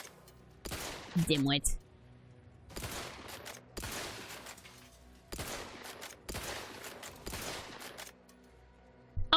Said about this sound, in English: Oh, I totally just shoot it.